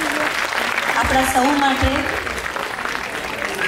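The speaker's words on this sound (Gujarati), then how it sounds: "એકવાર જોરદાર તાળીઓ" An auditorium audience applauds at a Navratri dance program, a steady broad wash of clapping that runs through the whole stretch while someone speaks over it.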